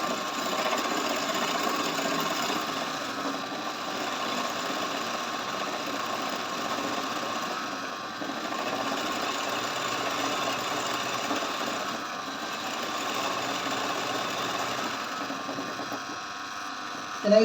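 An embroidery machine runs a single-stitch pattern with a steady, even mechanical hum and rapid needle chatter that holds continuously up close, with faint speech beneath it.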